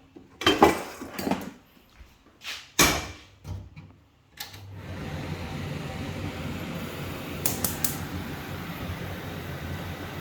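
Frying pan being taken out in a kitchen: several sharp metallic clanks and knocks of cookware, then a quieter steady background hum with a couple of light clicks, close by.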